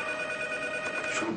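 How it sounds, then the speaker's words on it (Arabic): A telephone rings loudly and continuously in a home scene from a 2006 sitcom, a steady electronic bell tone with no other sounds over it. "أماني تيجا التليفون."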